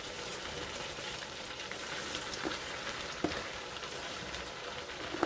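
Cabbage and sardines cook in a pan with a steady, soft sizzle and bubbling, broken by a couple of faint clicks.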